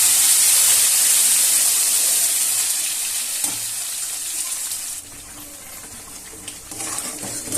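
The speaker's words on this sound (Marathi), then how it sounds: "मोहरी टाकून घेऊया. त्यामध्ये जिरे टाकून घेऊया. हे वाटलेलं वाटण टाकून घेऊया." Mustard seeds, cumin and a freshly ground spice paste hit hot oil, giving a steady, bright sizzle that eases slightly partway through and continues unbroken, with no voices.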